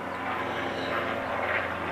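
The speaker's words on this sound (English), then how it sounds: "Sorry about the airplane." A loud airplane passes overhead with a broad, roaring engine drone that holds steady and swells slightly as it moves across the sky.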